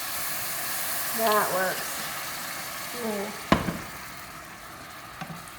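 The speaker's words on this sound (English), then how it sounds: "I want to deglaze the pan, and I'm going to put maybe half a cup of white wine in here" White wine poured into a hot pan to deglaze it, a steady hiss and sizzle under a brief spoken remark, with a sharp clank of utensil on pan midway and a small knock near the end.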